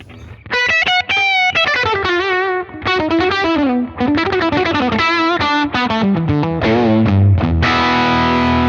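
Electric guitar played through a Universal Audio UAFX Dream Fender amp modeler pedal with heavy distortion, a quick melodic lead run of bending notes, loud and close, ending on a sustained chord.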